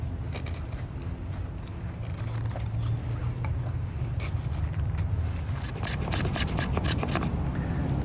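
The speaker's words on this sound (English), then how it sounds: "Get the shavings off the fatwood." A sharp knife scrapes shavings off a piece of fatwood in steady, close rasping strokes, with a few crisp scratchy bursts toward the end.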